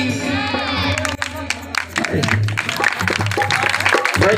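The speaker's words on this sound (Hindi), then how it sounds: "तालियां जम के।" Audience applause breaks out at a devotional Balmiki bhajan gathering, dense clapping and crowd noise rising over lingering music and voices, sustained and fairly loud throughout.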